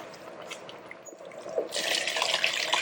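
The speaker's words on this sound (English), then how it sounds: "Rinse out with some water." Water runs into a blender jar as it's rinsed out in a home kitchen while making beef light soup, starting as a soft trickle and swelling into a steady, louder tap-water rush halfway through.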